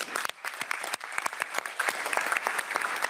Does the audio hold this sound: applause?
yes